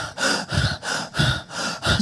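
A voice imitates a panting deer, with rapid, rhythmic breathy gasps repeating about six times in two seconds, close and fairly loud.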